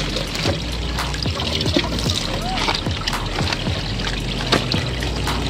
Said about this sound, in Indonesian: kita isi lagi dengan air